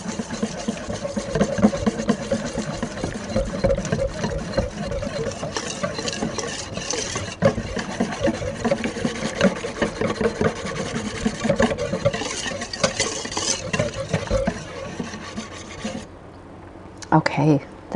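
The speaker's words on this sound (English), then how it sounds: "I'm going to whisk that up till it's nice and creamy." A whisk beats a wet focaccia dough batter with flour in a bowl, making continuous close rubbing and slapping strokes that stop briefly near the end before resuming.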